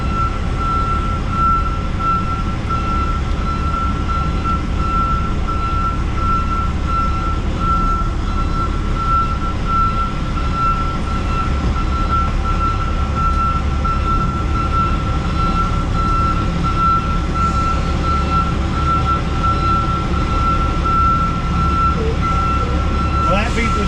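Steady, evenly spaced reversing beeps ring out over a constant low engine rumble, with occasional distant voices in the background.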